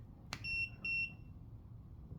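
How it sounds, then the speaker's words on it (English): A sharp click followed by two short, high electronic beeps in quick succession as a Yardworks 20V brushless pruner starts, clear over a low background hum. "You gotta wait for the double beep."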